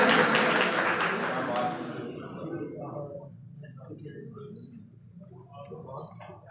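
At an award ceremony, an audience applauds a karate champion and gold medalist. The dense clapping fades quickly within the first couple of seconds, and then someone speaks.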